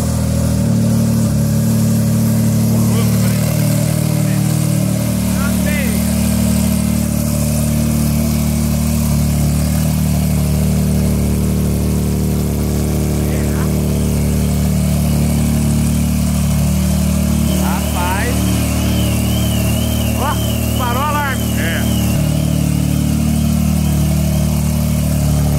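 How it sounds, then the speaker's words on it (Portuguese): Porsche 911 with a sport exhaust and turbo, heard close by as a steady loud engine idle with brief revs, turbo whistle and exhaust sounds rising over the low rumble, no talking. "Barulhinho da turbina na boca de escape"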